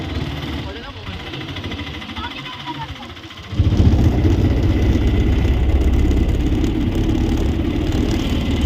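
An auto rickshaw carrying passengers from the railway station in Badami: a muffled, quiet stretch gives way to a loud, steady engine drone with road rumble that continues to the end.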